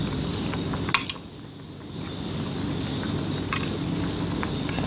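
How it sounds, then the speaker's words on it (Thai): A ladle clinks twice against a pot or bowl while scooping mushroom curry broth into fish sauce to dissolve it, two sharp metallic taps over a steady low background hum. "เฮาก็สิเอาน้ำแกงจ้ะตักมาใส่ปลาเพื่อละลายน้ำปลา"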